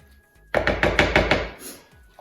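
Chilli con carne is stirred in a pan, with a run of six or so rhythmic scraping, thudding strokes lasting about a second, loud and close, then falling quiet.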